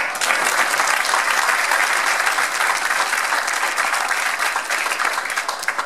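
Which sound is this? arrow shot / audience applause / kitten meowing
audience applause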